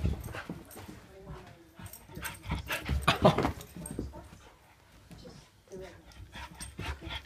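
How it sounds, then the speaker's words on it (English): A wet, energetic dog whimpers and pants nearby in short, uneven bursts, fairly quiet overall, with some faint background talk. "And we have one wet dog."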